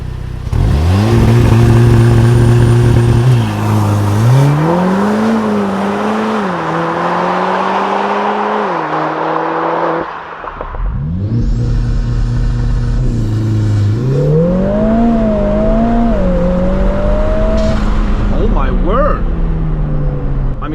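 A 400 hp Lotus Emira Turbo SE engine revs hard at full throttle, pitch climbing and dropping through several gear changes during a 0-100 km/h run, heard with windows closed, loud and close throughout.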